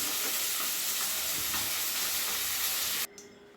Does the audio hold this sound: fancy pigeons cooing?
no